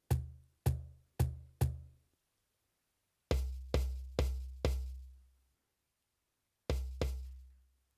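Deep, boxy cajon-like kick thumps from a stomp box pedal in short groups: four quick lighter hits, then four heavier low ones, then two more after a pause.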